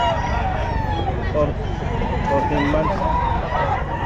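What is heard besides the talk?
rooster crowing at a pet market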